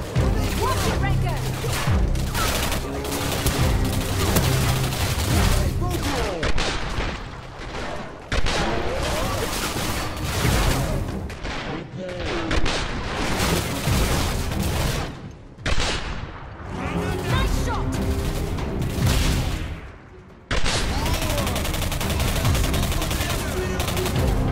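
Heavy gunfire in the shooter Singularity, dense fusillades and machine-gun bursts nearly nonstop across the clip with a few short pauses, loud and close under occasional talk.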